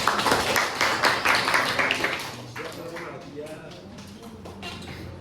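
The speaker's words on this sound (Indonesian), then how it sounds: "Tepuk tangan untuk kita semua" A class applauds in a classroom, a brief burst of mixed clapping that fades quickly as voices talk over it.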